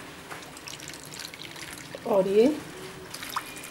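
Water poured into a pot of Amritsari chole while it cooks, a short splashing pour of about half a second, fairly close, with someone speaking briefly before it.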